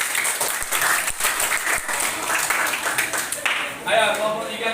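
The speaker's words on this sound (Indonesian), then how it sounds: "Yang beri aplaus yang mulia." A school class in a junior high classroom bursts into applause, dense steady clapping from many hands lasting the whole stretch, close and loud, with a few voices mixed in near the end.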